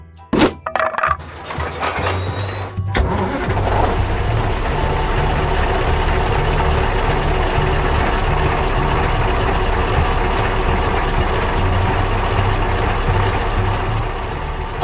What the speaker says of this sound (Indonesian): Truknya mulai melaju kencang.